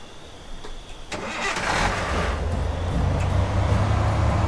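A car engine in Thief Simulator cranks and catches after a quiet start, then settles into a loud, steady idle rumble that holds to the end, with no one speaking.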